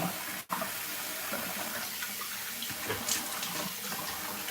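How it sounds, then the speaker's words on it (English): Warm water splashed from a sink onto a face while shaving, a soft continuous trickle and splash from a running tap at close range, with a brief drop in level near the start. "I just splashed on some warm water"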